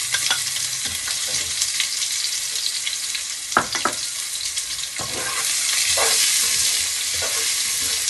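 Onions fry in a pan for matar pulao, giving a steady hissing sizzle close up with a few brief stirring scrapes and clinks, and the sizzle swells a little louder toward the end.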